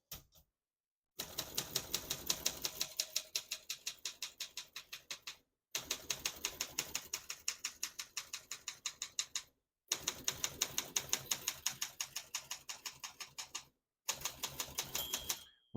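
Rapid bursts of typing on a 1971 Olympia SM9 portable manual typewriter, crisp mechanical keystrikes in four runs separated by short silent pauses, close and clear with no talking.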